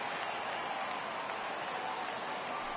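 Crowd noise from the MLB The Show 18 baseball video game fills the clip: a steady, dense roar of cheering and clapping as fans rise for a full 3-2 count, continuous and loud throughout.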